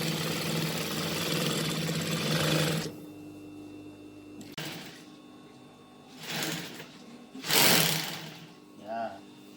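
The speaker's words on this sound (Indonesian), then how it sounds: "ini adalah menjahit bagian belakangnya" A sewing machine stitches the back panel of a Dayak Kenyah ethnic costume, a steady close mechanical whirr at first, then several short separate bursts of stitching with quiet gaps between them.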